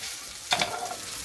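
Ingredients for carbonara, cooked in a pan on the stove, start sizzling with a sudden burst after a quiet moment, followed by a brief stirring scrape that fades back into a low, steady fry.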